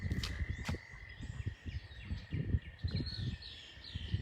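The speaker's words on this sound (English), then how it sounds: "right now we're still hearing those toads" Toads call in a spring marsh, a faint chorus of pulsing calls heard at a distance, with scattered bird chirps and a steady high insect-like tone.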